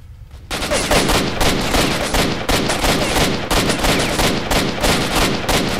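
Continuous, loud, dense gunfire from the video game S.T.A.L.K.E.R.: Shadow of Chernobyl erupts after a brief quiet start and keeps roaring almost without pause.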